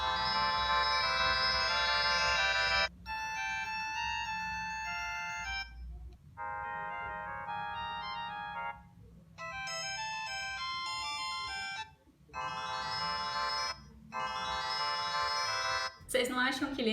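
A phone plays a series of smartwatch notification tones one after another, each a bright electronic melody reminiscent of old mobile ringtones, separated by short pauses, fairly clear and alone.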